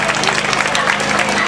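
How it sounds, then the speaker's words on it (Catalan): An audience claps at an outdoor town festival clown show, producing a continuous, crowded burst of applause up close, with voices mixed into the noise. "Un aplaudiment per amb ells"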